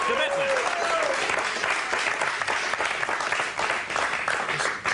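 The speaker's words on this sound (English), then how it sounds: "Let's give him a round of applause." Studio audience applause at a live comedy talk show, a steady dense wash of clapping filling the whole stretch, with some voices mixed in.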